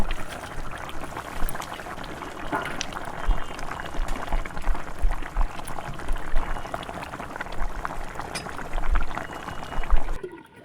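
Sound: fish curry boiling in covered pot

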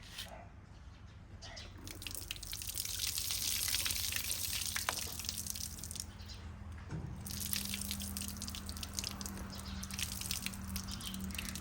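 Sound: plain water poured out of a hydroponic seedling tray

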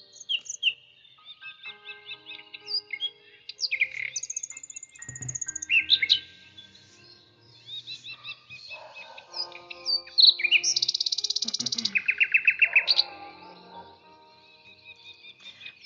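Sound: birds chirping near a window

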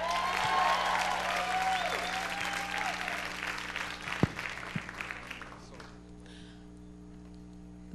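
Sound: audience applause for dancers Ollie and Julie

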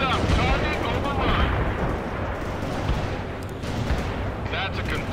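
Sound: artillery barrage in video game World in Conflict

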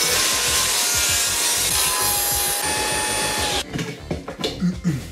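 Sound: homemade table saw cutting wood

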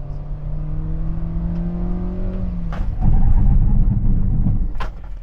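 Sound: 2023 Hyundai Stargazer accelerating and braking from 60 to 0

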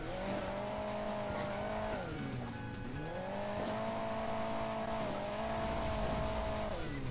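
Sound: car driving in the video game Hill Climb Racing 2

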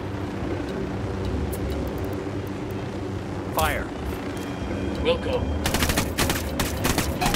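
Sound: machine gun fire in video game Ghost Recon: Wildlands

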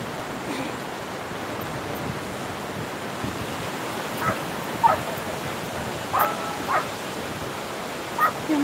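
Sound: dogs being bathed at the seaside

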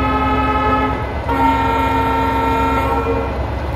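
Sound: train horn of passing locomotive

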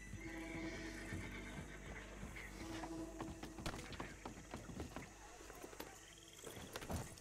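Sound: horse neighing and hooves, video game

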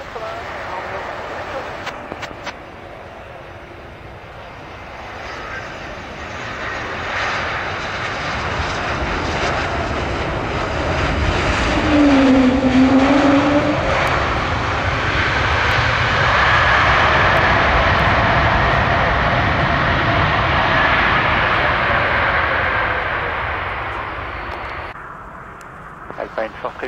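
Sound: airliner engines at Paris CDG airport

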